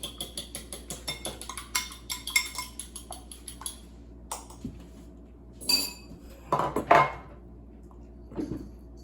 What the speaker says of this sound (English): Whisk it real quick.